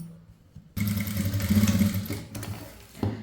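A sewing machine stitching a chudithar pant runs in a steady, close whirring burst after a brief quiet start, then slows and stops near the end.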